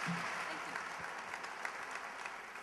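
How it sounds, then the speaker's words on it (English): An award ceremony audience applauds steadily, dense clapping from a large crowd in a hall, sustained and even throughout with no speech over it. "Let's have a round of applause for Uhud."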